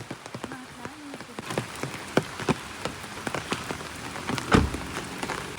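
Heavy monsoon rain falls in Sagar, a continuous patter broken by irregular, sharper drops and splashes hitting nearby surfaces, close and fairly clear.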